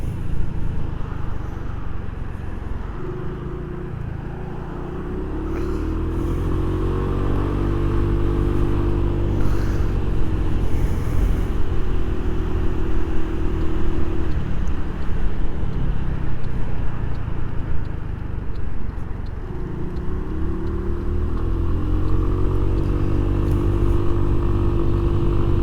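A Genuine Buddy 170i scooter riding in light street traffic, its engine droning steadily with rising and falling revs as it accelerates and eases off, under heavy wind rumble close to the rider.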